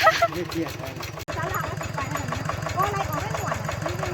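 Tractor engine chugging in first gear while plowing a rice field, a steady rhythmic throb close by, with some voices faintly audible over it.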